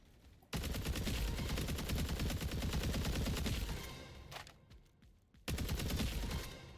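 Rapid gunfire in a Roblox game, loud and dense bursts of shots lasting several seconds, a short lull with scattered pops, then another heavy burst resumes.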